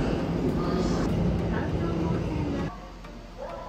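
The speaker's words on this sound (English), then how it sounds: "This is the Tokyo Metro Ginza Line to Shibuya Station." A Tokyo Metro Ginza Line subway train heading to Shibuya Station, heard as a loud, steady rumble and roar close by that drops somewhat near the end, with no clear talk.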